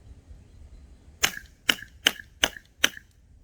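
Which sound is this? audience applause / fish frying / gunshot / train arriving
gunshot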